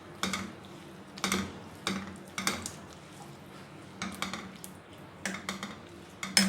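A spoon stirs a pot of white shahi chicken korma in repeated, evenly spaced strokes. Each stroke is a brief scrape and clink against the pot, close and fairly quiet, with no talking.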